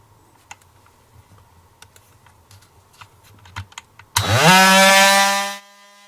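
A Porter Cable 20V oscillating multi-tool rated at about 18,000 oscillations per minute starts after a few faint clicks, then runs as a loud, close, steady buzzing whine for about a second and a half before cutting off.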